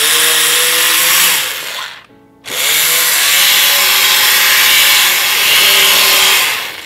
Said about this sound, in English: take my stick blender and I'm going to blend this up right in the